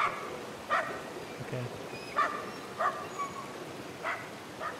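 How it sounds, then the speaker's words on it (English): A dog barks in the video game Somerville, five or so short yips spaced irregularly over a quiet ambient backdrop, with a brief spoken word from a player. "Where is the dog barking from?"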